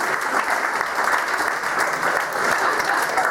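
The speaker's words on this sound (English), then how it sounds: "Big round of applause" Steady, full applause from the audience at an adult comedy show runs evenly and continuously, a dense wash of many hands clapping with no voices standing out.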